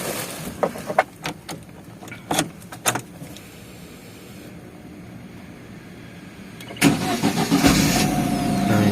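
Wuling Formo Max 1.5L manual pickup engine cranks and catches near the seven-second mark, then settles into a steady close idle, after several sharp clicks and clunks from inside the cab.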